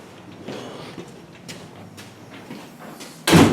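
In a historic building during a preservation society event, a door is pushed shut after soft shuffling and creaks, ending in a loud, close thud as it closes.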